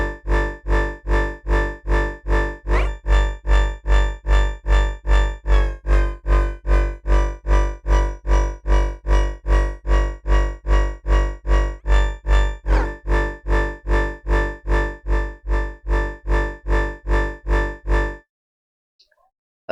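Heavy distorted synth bass designed in Phase Plant, pulsing in steady evenly spaced repeated notes with a thick buzzing harmonic tone, loud and alone for about eighteen seconds before cutting to silence.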